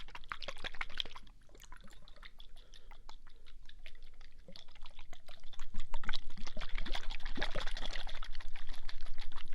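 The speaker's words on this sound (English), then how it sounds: "In terms of flowing water becomes such a unique" Close, quiet water trickles and pours in an ASMR setting, with soft irregular splashes and droplets that grow fuller and steadier in the second half, with no voices.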